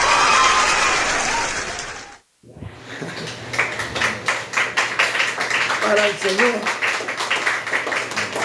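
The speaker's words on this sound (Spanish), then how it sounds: "ustedes saben que ese aplauso es para el Señor" Congregation applause at a Spanish-language church service: a loud, dense burst of clapping for about two seconds, cut off abruptly and followed by a preacher speaking.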